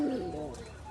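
A Rajshahi pigeon from a master pair gives a short low coo close by, a soft throaty warble that trails off quietly within a second.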